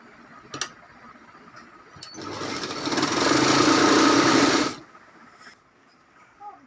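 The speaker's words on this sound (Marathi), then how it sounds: "आपण आता पहिली जी शिलाई मारली आहे तिच्या बाजूला अजून एक शिलाई मारत आहोत" Sewing machine stitching a second line along the border of a quilt made from old saris, a steady whirring run of about two and a half seconds, close and fairly loud, framed by quiet handling clicks before and after.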